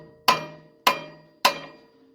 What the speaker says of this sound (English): So I chose a bronze hammer. So we'll just give this a couple cracks.